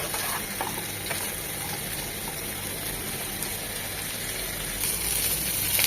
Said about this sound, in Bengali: এই তেলেই হালকা 1-2 মিনিট ভেজে নেব, ঠিক আলুর মতোই।